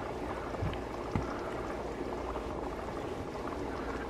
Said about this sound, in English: Nice little gentle boil going on.